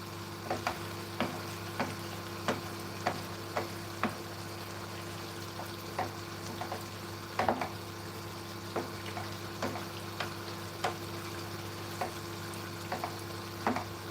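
Leafy greens fry in a frying pan, Sierra Leone style, with a steady close-up sizzle, broken by periodic clicks and scrapes of stirring.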